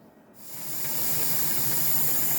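Steam hisses steadily from a pot during steaming in a home kitchen, rising quickly to a loud, continuous rush with no talk over it.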